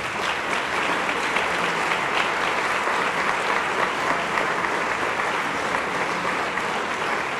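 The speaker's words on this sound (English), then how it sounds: "a great round of applause." A room full of guests at an awards dinner claps steadily for the staff. The dense, even applause holds from start to finish without a break.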